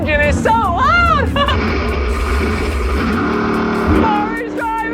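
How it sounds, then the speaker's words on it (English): A race car engine roars loudly and steadily, revving and rising in pitch, with a voice talking over it at moments. "The engine is so loud!"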